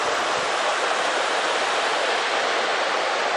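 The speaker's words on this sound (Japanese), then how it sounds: "青の滝" Ao no Taki waterfall on the Suzuka Skyline roars as a dense, steady, loud rush of falling water with no break.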